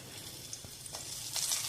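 Green chili drops into hot oil for a sago idli tempering with cashews and asafoetida. A steady, close, quiet sizzle is broken by a few small pops.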